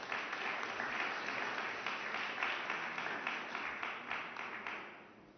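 An audience at a press conference applauds the signing of an agreement between the European Commission and the International Finance Corporation, a steady, even wash of clapping that fades out at the end.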